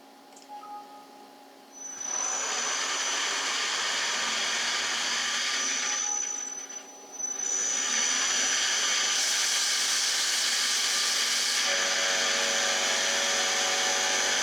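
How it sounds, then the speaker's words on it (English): CNC milling of an injection molding machine top plate being machined down to one inch, a steady loud whine of the spindle and cutter with a brief dip partway through, running continuously with no talk. "we're going to be machining it down to 1 inch"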